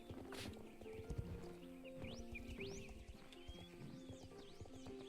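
Horse hooves clip-clop in the video game Star Stable, with a loud neigh near the start and chirping birdsong over a looping game music backdrop.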